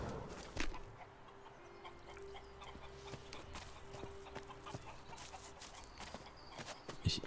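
Chickens cluck in the video game Elex II, a handful of short calls scattered over a steady clattering, hoof-like rhythm, with no talking.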